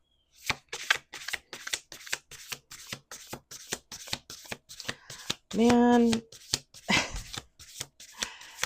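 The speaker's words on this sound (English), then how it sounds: "Let's do 2 more shuffles." A deck of playing cards is riffle shuffled again and again in quick, crisp bursts, close and clear, with someone speaking briefly and a short tonal sound partway through.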